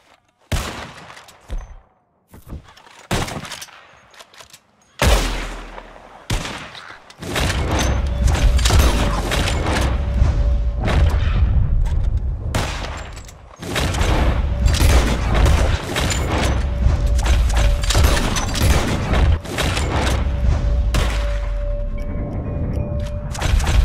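Rapid gunfire rings out in Red Dead Redemption 2 as players shoot at flying birds, scattered shots at first, then dense, loud continuous firing with booms and mechanical clatter over a steady tone.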